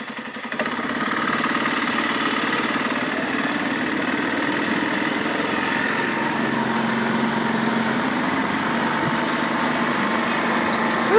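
A four-wheeler that also pulls a small trailer, its engine running steadily during a ride in a garden, a loud close drone holding an even pitch throughout with no voices.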